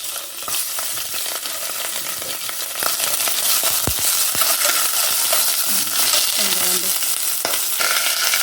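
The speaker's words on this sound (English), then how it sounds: "1 tablespoon of vegetable oil. Let it get hot. Put in the gizzards." Chicken gizzards frying in hot vegetable oil, a steady crackling sizzle that grows louder as they hit the pan, with occasional utensil clicks from stirring close by.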